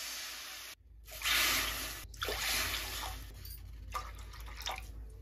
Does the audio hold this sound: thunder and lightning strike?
no